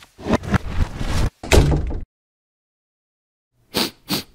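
Door closing in the Roblox game Bloxburg: two short, sharp clicks close together after a pause, following a stretch of other game sounds and movement.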